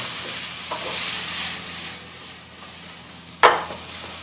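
Peppers and vegetables sizzle and hiss in a hot pan while being stir-fried for udon, with scraping stirs and a sharp utensil knock near the end.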